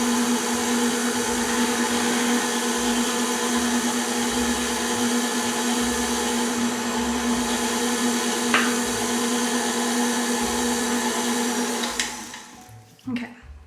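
An electric mixer whirs steadily through blueberry muffin batter, a loud, constant motorized drone that runs close-up before cutting off near the end.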